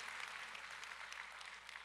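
Congregation applauding in a church service, a steady, dense wash of clapping at a faint, distant level with no talk over it.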